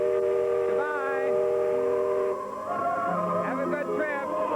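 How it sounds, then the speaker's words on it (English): A steam whistle on the Disneyland riverboat blows with sustained harmonic tones, rising and sustained across the clip, mixed with a crowd and voices nearby. "There goes the whistle."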